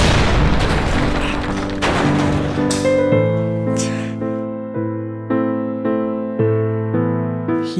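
Grenades explode in a live-action zombie scene: several heavy booms land at the start, followed by a short run of musical notes that carry through to the end.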